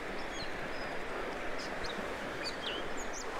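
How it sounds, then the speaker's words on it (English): Faint, scattered bird chirps ring out a few times over a low, steady outdoor background hum. "It's also a bird like I think he's cussing me out."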